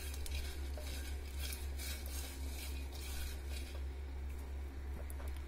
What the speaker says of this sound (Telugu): వేరుశనగ గింజలు కరివేపాకు ఎండు మిరపకాయలు నువ్వులు వేసి కొద్దిగా ద్వార అయ్యేంత వరకు వేయించాలి